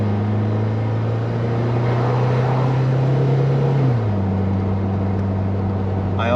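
BMW Z3 roadster accelerating from inside the cabin, a loud steady engine drone that climbs in pitch, then drops with a gear change and carries on, with no talking.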